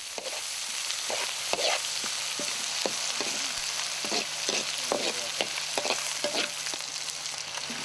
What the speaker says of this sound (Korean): 수상농장에서 재배한 각종 야채를 잘게 썰어 넣고 볶습니다